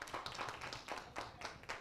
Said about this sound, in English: Why don't we give Dana and Nicole a round of applause?